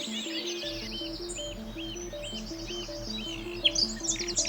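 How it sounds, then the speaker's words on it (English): A hoopoe calls repeatedly in the countryside, a regular series of soft hooting notes with other birds chirping and trilling around it at moderate distance. "The bird calls again, waiting for an answer that only the countryside can return."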